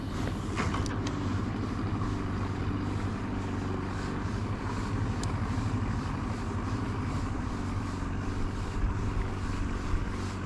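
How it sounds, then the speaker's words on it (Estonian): An outboard boat motor purrs steadily behind the listener, a constant low droning rumble mixed with wind and water noise, continuous and moderately close. "Mootor ka puriseb taga."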